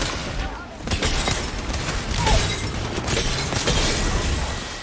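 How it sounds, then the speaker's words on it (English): A busy burst of Apex Legends game sound effects with booms and a sharp shattering crack of an enemy shield breaking, crunchy and loud, packed with overlapping impacts. "the deep, satisfying shatter of an enemy shield in Apex Legends"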